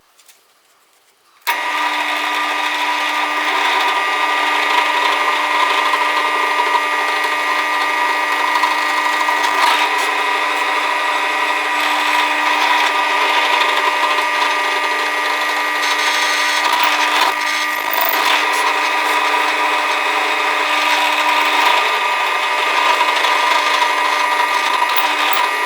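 A power drill bores bolt holes through a Telecaster guitar body, a steady loud whine that starts abruptly and holds at constant pitch for over twenty seconds.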